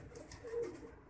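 A single soft pigeon coo, low and brief, against faint background noise.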